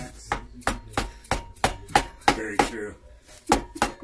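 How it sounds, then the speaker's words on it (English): Rubber mallet hammering on parts during an H22A engine build, about a dozen dull, evenly spaced thuds heard close by, with a voice speaking briefly between blows. "At least it's a rubber mallet"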